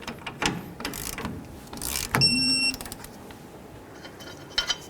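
A torque wrench ratchets on the tie rod nuts of a 1992-2000 Chevy Tahoe, giving several short clicks and a sharp metallic snap with a ringing tone, close up in a quiet garage.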